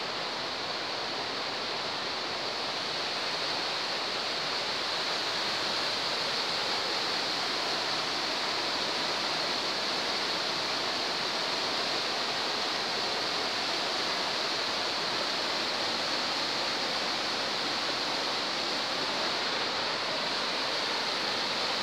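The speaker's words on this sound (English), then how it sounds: "Wee waterfall over the back here." A small waterfall at Buchanty Spout rushes steadily, a constant hiss of falling water with no breaks, fairly close and unaccompanied by voices.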